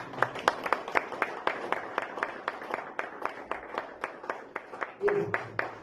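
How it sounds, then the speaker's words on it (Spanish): Audience applause rings out after a prayer at a church servants' seminar: a lively run of separate sharp claps in a brisk, uneven rhythm, fairly close and moderately loud, with no talking over it. "Denle un fuerte aplauso"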